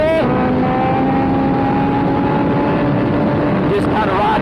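Suzuki GSX-S 1000 motorcycle engine held at a steady high drone through a wheelie, loud and continuous with a slight rise in pitch near the end.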